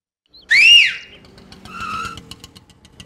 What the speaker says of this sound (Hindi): ऑटो वाले को कैसे बुलाया? सीटी बजाकर।